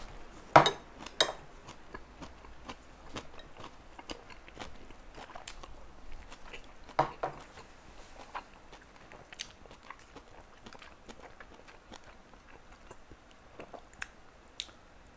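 Lunch of home-cooked food with miso soup: cutlery and dishes clink sharply now and then over quiet, close chewing and soft handling noises in a calm indoor room.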